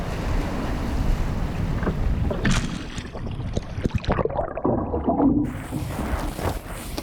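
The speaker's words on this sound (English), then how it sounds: "Oh, it's windy, it's good. It's really strong." Strong wind buffets the microphone continuously while wing foiling on the Columbia River Gorge, with rushing air and faint water splashing beneath, loud and close throughout.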